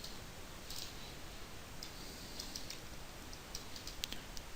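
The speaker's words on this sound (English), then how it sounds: "Now, so I can just type transform" Faint, quick keyboard clicks of C# code being typed for a space game, scattered taps over a steady low background hiss.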